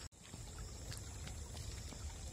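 Irrigation water trickles and pours steadily through a field channel beside a ripening paddy crop, a continuous close, fairly faint watery flow with no voices.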